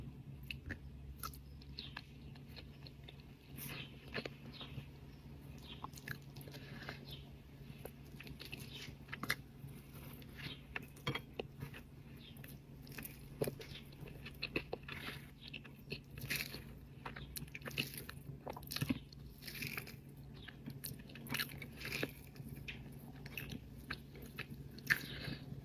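Quiet close-up eating of fried potatoes with hilsa fish: soft, irregular bites and chewing with small crunchy clicks and wet mouth sounds, repeating throughout at low volume.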